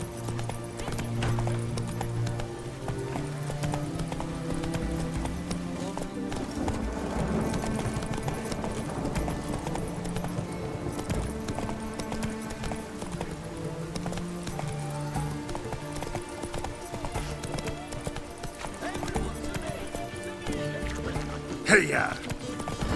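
Roach, the witcher's horse in The Witcher 3: Wild Hunt, gallops with steady, fast hoofbeats under a continuous bed of game music, with a brief louder burst near the end.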